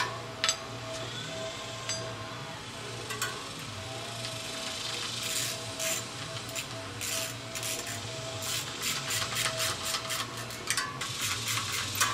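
Nuts being tightened onto the rag joint sprocket bolts of a motorized bicycle wheel, with close, repeated ratcheting clicks and scraping metal in short bursts over a low background hum.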